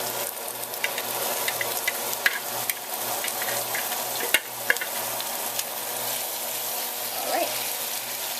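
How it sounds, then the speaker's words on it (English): Meat sizzles and fries in a pan with shallots that have turned brown, a steady hiss with occasional stirring clicks and scrapes, close and continuous, with faint talk in the background. "as the shallots are starting to turn brown now, we can put in the meat"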